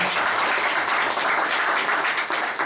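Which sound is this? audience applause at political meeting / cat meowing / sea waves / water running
audience applause at political meeting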